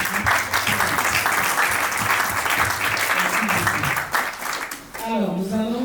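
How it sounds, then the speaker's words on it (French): Wedding guests applaud loudly at a civil marriage ceremony, with dense, steady clapping filling most of the stretch. Near the end it gives way to a voice and a brief tonal sound. "On acclame aussi."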